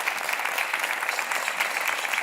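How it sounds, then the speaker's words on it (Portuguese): A game show studio audience claps steadily throughout, a dense, even wash of applause with no voices over it. "Um aplauso para o António Matos."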